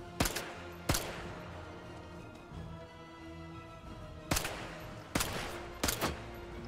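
Full-auto gunfire in the video game Sniper Elite 5, sharp loud bursts with short gaps between them, two near the start and a tight cluster of three toward the end, over a steady low game ambience.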